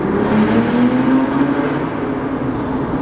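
A Porsche GT2 sports car engine roars loudly and steadily on turbo boost, its pitch climbing as it accelerates hard, heard up close without any talking.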